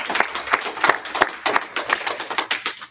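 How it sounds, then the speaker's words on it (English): An audience at a product management talk claps in a round of applause, a quick run of sharp, distinct hand claps that is close and steady from the start and fades slightly toward the end. "Round of applause again"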